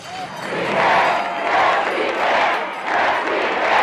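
A large crowd chants in unison, rising and falling in repeated rhythmic swells of massed voices, loud and continuous with no single speaker standing out.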